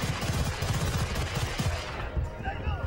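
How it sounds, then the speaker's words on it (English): Sustained weapon fire in the Battlefield: Bad Company 2 campaign, dense bursts of gunshots running continuously through a loud, busy battle mix with no pauses. "Yeah, I know how to fire my weapon."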